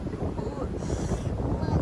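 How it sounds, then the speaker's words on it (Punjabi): Cold wind rushes over the microphone at an amusement park in a constant low roar, buffeting loudly for the whole short moment. "ਇੱਥੇ ਇੰਨੀ ਹਵਾ ਚੱਲਦੀ ਹੈ ਠੰਡੀ"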